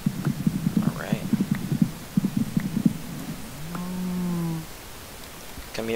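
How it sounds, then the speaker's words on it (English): A Minecraft cow lets out one drawn-out, droning moo after a run of soft rhythmic thumps, with a voice nearby in the game session. "Come here, Mr. Cow."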